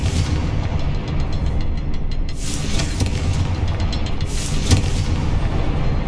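Confringo spell blasts in Hogwarts Legacy, fiery bursts with booming impacts, two sharper blasts standing out over a steady rumbling game backdrop.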